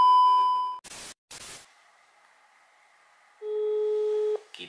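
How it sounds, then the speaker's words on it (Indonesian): Telephone tones from a call being placed: a steady beep, a couple of short noisy bursts, then a long low hum followed by another loud sustained tone, heard clearly with no talking. "Kita telepon Palen artis ya."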